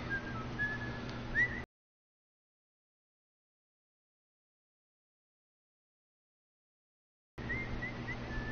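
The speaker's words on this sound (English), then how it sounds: "Stop whistling." Faint whistling in The Last of Us video game, a brief rising note over a steady low hum, cut by a long stretch of total silence before the hum returns.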